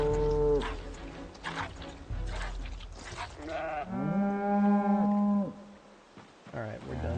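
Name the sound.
cows mooing in the video game Project Zomboid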